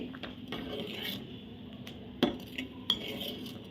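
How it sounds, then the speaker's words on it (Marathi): A spoon stirs a dal and brinjal curry with tamarind pulp and salt in a pot, giving soft scraping and a couple of sharper clinks against the metal, close and moderately quiet over a low background hum. "परत हे सगळं मी आता ढवळून घेते"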